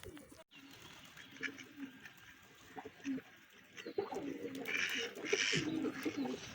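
Pigeons coo in soft, repeated throaty calls at a pigeon house, growing busier toward the end, with faint rustling and a few chirps around them.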